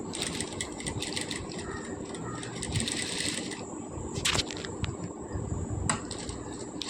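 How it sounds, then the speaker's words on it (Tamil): A sewing machine stitching piping cloth for a blouse back neck design, running in rapid bursts with short pauses, close and prominent, with a voice talking over it at times. "அதே மாதிரியே பைப்பிங் கிளாத் எடுத்து இன்னொரு லைன் வந்து நான் ஸ்டிச் பண்ணிகிட்ருக்கேன் பாருங்கள்"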